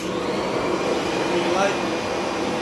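A Kirby vacuum cleaner runs with a steady, close whirring drone while a person speaks briefly over the motor noise.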